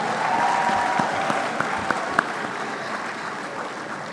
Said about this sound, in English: A round of applause for Champe.